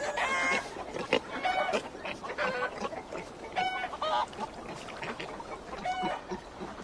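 Panicked farm animals in Assassin's Creed Valhalla, geese honking and chickens clucking in agitated bursts, several overlapping calls close by against a noisy background.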